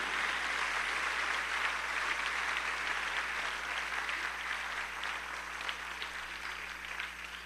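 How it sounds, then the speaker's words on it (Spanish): A church congregation applauds during a sermon with a dense, sustained wash of clapping that stays fairly even throughout, over a faint steady low hum. "si va a aplaudirle, apláudale con toda su alma"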